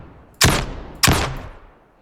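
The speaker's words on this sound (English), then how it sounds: "When we now hit play, we have the animation and the sound as well for the launcher." Two loud launcher shots from a weapon in an Unreal Engine 5 shooter game, each a sharp blast with a decaying tail, about half a second apart, with no other sound.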